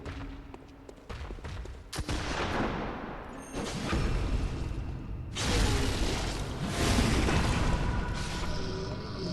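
In a Bloodborne-style boss fight against a Pthumerian enemy, loud bursts of gunfire and booming blasts ring out in rapid clusters, with heavy rumbling impacts and no talking.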